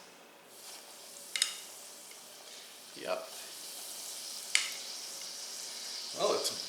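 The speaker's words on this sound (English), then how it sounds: "And now I'm going to add the chicken to the hot oil in the Fry Daddy" Chicken frying in oil at about 370 degrees in a Fry Daddy deep fryer, with a steady soft sizzle and bubbling, a few sharp clicks and stirring scrapes, and a brief spoken word.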